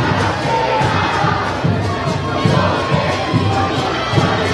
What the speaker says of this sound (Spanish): Enorme, enorme el grito de la gente.